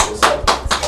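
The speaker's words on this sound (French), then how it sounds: "Est-ce qu'on peut applaudir s'il vous plaît, Eric?" A few sharp hand claps in quick succession, loud and close, a short burst of applause after a bartender mixes a mojito.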